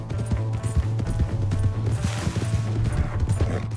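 Horse galloping in the Red Dead Redemption 2 video game, a steady rapid clip-clop of hooves running throughout under game music and ambience, with a low droning tone beneath.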